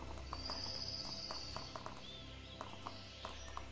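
Horse hooves clip-clop at a steady walking pace in the game Animallica, faint and fairly distant over a soft ambient background with light birdlike chirps.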